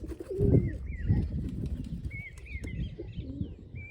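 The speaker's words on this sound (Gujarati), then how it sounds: "જંગલી કબૂતર જો કેટલા બધા ઉતરા છે" Several wild pigeons coo in low, throaty murmurs close by, with higher bird chirps and outdoor rustling around them.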